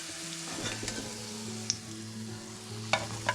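Kerala chayakkadi tea-time snack frying in hot oil, a steady close sizzle with light stirring clinks and a couple of sharper pops, no voices.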